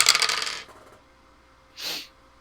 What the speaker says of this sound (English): I heard like 2 dice.